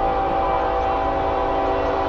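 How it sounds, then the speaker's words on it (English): A Norfolk Southern freight train led by an ES44AC locomotive, followed by an ES44DC, sounds a steady, loud horn chord as it passes, continuous and close with no speech. "First train of the day."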